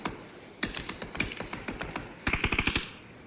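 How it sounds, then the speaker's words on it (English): Bursts of rapid gunfire in the battle royale game PUBG during an esports finals match, quick cracking shots in two clusters, fairly faint with no voice over them. "Hisaki going to take the shots over towards Canaxi."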